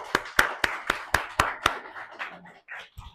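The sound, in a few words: audience applause for a speaker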